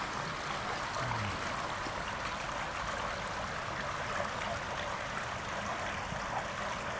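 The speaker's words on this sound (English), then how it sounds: "My guide told me that there was going to be a waterfall here" Steady rushing and trickling water from a small waterfall at the Colorado River headwater in Utah, a continuous broadband wash that stays even and unbroken throughout with no voices.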